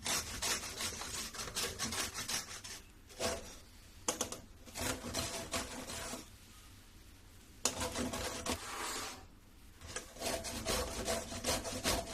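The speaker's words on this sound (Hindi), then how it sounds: "अब इसी पर रख के ये आम को मैं घसूंगी।" Raw mango scraped over a metal grater into a large pot for chutney, a steady run of close rasping strokes in bursts with short pauses between, and no one talking.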